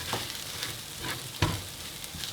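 Curry powder cooking in a pan for vegan curry fried rice, a steady close sizzle with a few soft scrapes of stirring and one sharper knock partway through.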